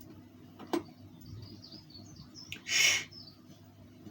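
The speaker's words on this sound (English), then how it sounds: "Can you hear the birds?" Faint bird chirps in a quiet outdoor setting, a few short calls scattered over a low hum, with a brief whisper and a louder burst near the end.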